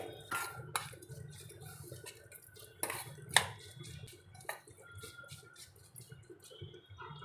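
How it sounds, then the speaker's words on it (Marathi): Kosambiri salad being mixed in a bowl with lemon juice: soft scraping and light spoon-on-bowl clinks recurring at an uneven pace, quiet and close, with no talk. "आता आपल्याला ही कोशिंबीर व्यवस्थित मिक्स करून घ्यायचे"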